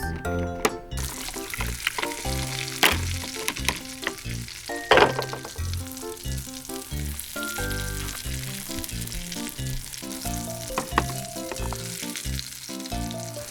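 Meatballs fry in a pan with a loud, dense sizzle while a spatula scrapes and knocks against the metal as they are turned, steady and close throughout.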